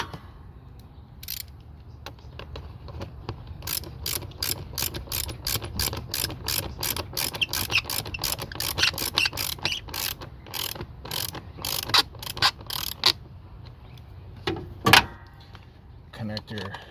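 A wrench clicks repeatedly in a steady ratcheting rhythm while loosening a bolt in the engine bay of a Prius, loud and close, with occasional speech at times.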